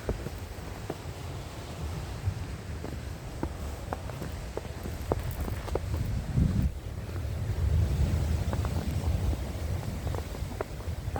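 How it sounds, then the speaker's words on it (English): Ocean waves wash on a winter beach at Woodbine Beach in Toronto, a low rolling surge beneath heavy wind buffeting and scattered crunchy footsteps close by, with no talking. "I believe that you can hear the waves."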